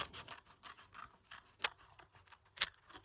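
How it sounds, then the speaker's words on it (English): Scissors snip through colored paper in a quick, uneven series of crisp cuts, close and fairly quiet, with no talking. "as you're cutting out your colored paper"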